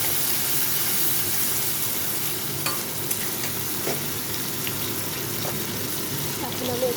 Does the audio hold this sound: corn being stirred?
yes